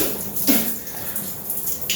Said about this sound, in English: I was just taking a cold shower